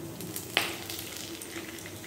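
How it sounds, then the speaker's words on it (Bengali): Nigella seeds, fennel seeds and a bay leaf hit hot oil in a steady, close sizzle, with one sharp crackling pop breaking through early. "এবার ফোড়নে কালো জিরা এবং মৌরি দিব।"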